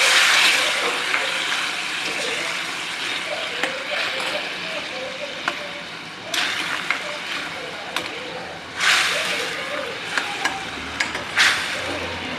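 Grated coconut with a little salt stirred in a pan for a simple sweet dish, a soft continuous sizzle with scraping spatula strokes and a few clinks against the pan, nearby, while someone talks over it.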